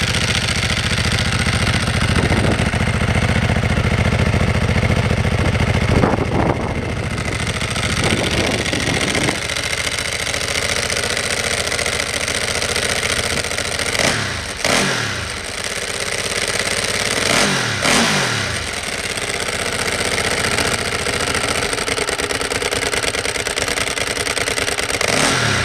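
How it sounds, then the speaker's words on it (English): Motorcycle with its standard stock exhaust idling at a steady low rumble, broken by several sharp throttle blips that rev up and fall back, close and loud with no talking. "That's what the standard exhaust sounds like."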